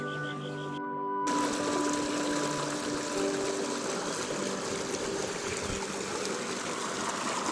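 Irrigation water pouring steadily from a tubewell into vegetable fields, a continuous loud rushing gush with a faint mechanical pump hum beneath, close and unbroken after a brief quieter opening.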